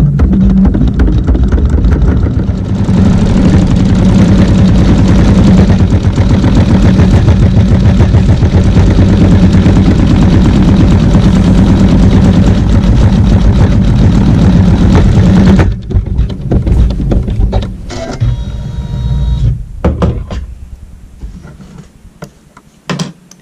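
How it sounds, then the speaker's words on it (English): An embroidery machine sewing a small satin oval at the base of a flower hums loudly with a rapid, steady mechanical drone for about fifteen seconds, then stops, leaving scattered clicks and handling noises. "It's going to sew a little satin oval there at the base of the center of the flower."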